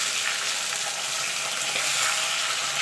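Whole flat beans (sheem), lightly salted, fry in a pan with a steady close sizzle and crackle that runs on without break and without speech.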